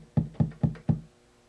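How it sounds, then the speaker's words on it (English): Regular kick drum sample in beat-making software, four punchy low thumps evenly spaced in a quick steady rhythm, close and clean with no talk. "Regular kick sounds like this."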